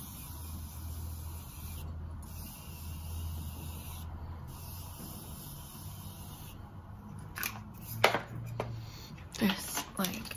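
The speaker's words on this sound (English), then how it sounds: "we're just gonna spray the face again with some setting spray." Short bursts of makeup setting spray hiss onto a face, a few puffs with brief pauses between, up close, followed by a little rustling and handling noise.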